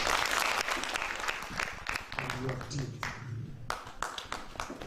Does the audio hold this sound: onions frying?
no